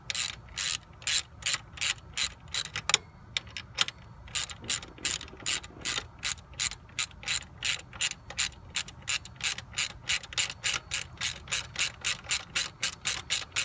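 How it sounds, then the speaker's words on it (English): Hand ratchet tightening an alternator bolt on a 1999 Ford Mustang, a steady run of about thirty sharp, rapid clicks in quick rhythmic bursts, close and clear, with a brief pause near the start. "You're gonna see his hand moving around a whole lot because he's tightening this bolt."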